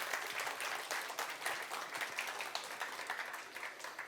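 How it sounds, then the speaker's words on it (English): A crowd at a whisky masterclass claps steadily and enthusiastically, a dense wash of applause that continues throughout without any talking. "So applause to Steffen."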